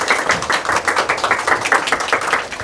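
An audience at a 2025 skincare seminar in Suwon, South Korea, applauds a demonstration model with steady applause, a dense continuous patter of many hands clapping close by, with no break for the whole stretch.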